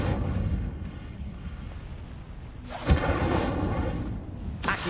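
The Incendio fire spell cast in the video game Hogwarts Legacy, a fiery whooshing burst with a sharp booming impact midway, over a steady background rumble, followed by another flare.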